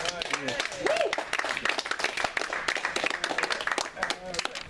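An audience at a Tea Party club meeting bursts into applause, dense scattered clapping throughout, mixed with a few voices talking and calling out over it.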